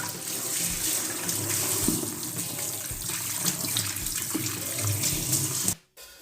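Running tap water splashes over peeled tapioca root in a sink, a steady close gush with small shifts as the root is turned under the stream, stopping abruptly near the end.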